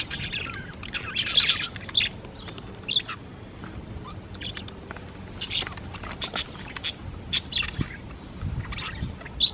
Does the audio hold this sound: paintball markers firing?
no